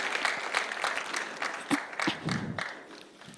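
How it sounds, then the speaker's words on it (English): Audience applause at an MOU signing ceremony in Rwanda, a steady room-filling patter of clapping hands with a few sharper claps standing out, lasting a few seconds without speech. "A warm round of applause, ladies and gentlemen, for this important MOU."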